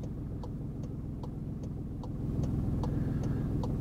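A white Golf driving-school car rolls along a road while passing a cyclist, with a steady low engine and road rumble and a regular, quiet ticking like an indicator over it.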